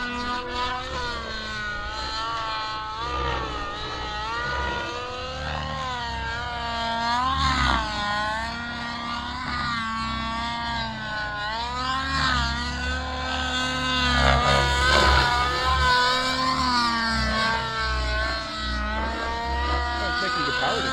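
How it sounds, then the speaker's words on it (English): A gas-powered RC helicopter engine with Vbar Evo electronics warms up nearby, droning steadily with rising and falling pitch like a small two-stroke under throttle changes, while a person talks over it. "So I'm kind of warming the motor up"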